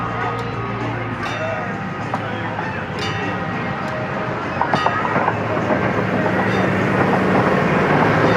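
A LEGOLAND Windsor theme park train passes nearby with rhythmic clickety-clack of wheels over rail joints, rising slightly louder toward the end, with faint background voices.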